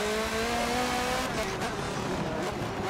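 A race car engine in the video game Forza Motorsport 7 drones steadily at high revs, its tone holding then shifting as it accelerates, loud and continuous with no talking.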